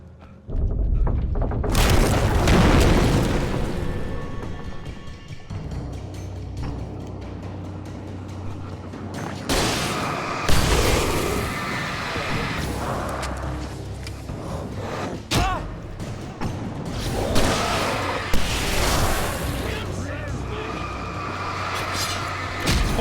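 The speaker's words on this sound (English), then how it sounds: "Just gonna use a flare gun this time." A flare gun fires in the horror action game Alan Wake Remastered at Mirror Peak Lookout, giving a loud, sharp blast followed by bursts of booming, thudding impacts and a dense, noisy game soundscape with no talking.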